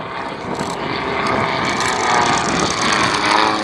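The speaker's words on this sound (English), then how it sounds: "this is a very light aeroplane utilizing the latest in composite materials for its construction" A very light composite-built propeller aeroplane drones overhead at an airshow, a buzzing mechanical whine that grows slightly louder as it passes, with no voices.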